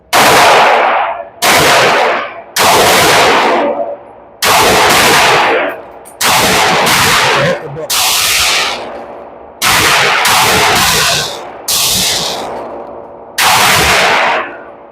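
Sig Sauer P365 AXG Legion pistol fired at a shooting range, about ten loud, sharp shots spaced a second or so apart, each with a ringing tail, close and with no talking.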